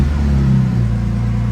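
A BMW E90 328i with a crank sensor fault cranks and fires up, a loud low rumble settling into a steady, close idle that runs through the whole stretch with no talking.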